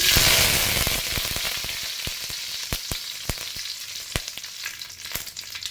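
Cumin, mustard seeds and curry leaves sizzle in hot tempering oil, a steady close frying hiss dotted with sharp popping crackles of bursting mustard seeds, with no talk.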